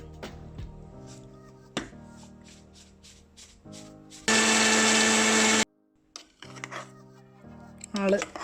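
A kitchen mixer grinder blends garlic paste with oil, bursting into one loud, steady whir for a little over a second between stretches of quieter handling noise and talk.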